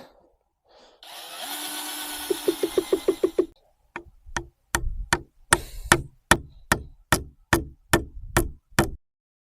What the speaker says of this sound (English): Let's get back to drilling.